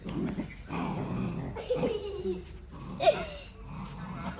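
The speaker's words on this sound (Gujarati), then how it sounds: "એને તો કૂતરા જોડે મસ્તી કરે છે" A dog growls in low, rumbling bursts and gives a few whimpering whines while a child plays with it at home, close to the microphone.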